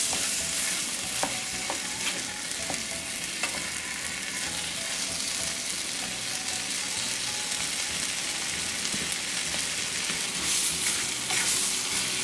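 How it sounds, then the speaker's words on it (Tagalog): Bottle gourd (upo) sautéing in a pan while being stirred, a steady hissing sizzle with scraping stir strokes and light clinks throughout, fairly close and with no voices. "Haluin lang natin ito. At itutuloy lang natin ang pagluto ng ilang minuto pa."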